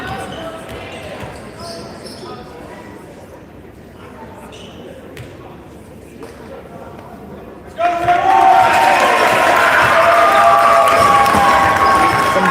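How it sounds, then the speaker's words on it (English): Sabres parents cheer in the stands at a school basketball game, a loud burst of crowd noise and shouting that rises suddenly partway through, after a quieter stretch of court sounds and a commentator talking. "Some good cheer from the Sabres parents there"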